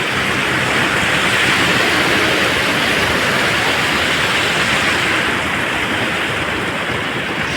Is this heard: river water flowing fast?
yes